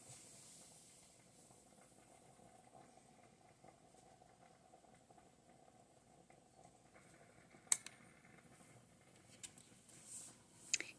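A pot of gluten free pasta boils quietly in a kitchen, giving a soft, steady hiss and faint bubbling with a few sharp clinks near the end.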